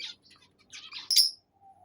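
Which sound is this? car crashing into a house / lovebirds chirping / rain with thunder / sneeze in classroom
lovebirds chirping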